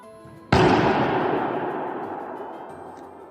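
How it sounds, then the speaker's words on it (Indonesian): A single sharp, loud bang erupts suddenly, then its reflections hang on as a long, smoothly fading reverberant tail lasting several seconds, the echoes overlapping the original blast before it dies away. "Gaung adalah bunyi pantul yang datang sebelum bunyi asli selesai."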